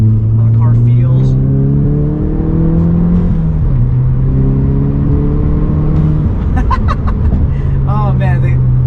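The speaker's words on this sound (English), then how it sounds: "I'm gonna do a quick second gear through here and just see how the car feels." A tuned VW MK7 GTI accelerating hard in second gear while merging onto a highway, the engine drone rising steadily, briefly dropping at a shift point, then climbing again, heard loud from inside the car.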